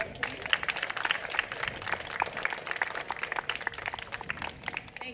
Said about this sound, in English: Give Pastor Lapid another round of applause